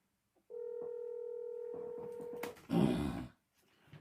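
A telephone being dialed to call someone: a sustained electronic dial tone, then a few quick touch-tone beeps, followed by a brief rustling thud, close and fairly quiet.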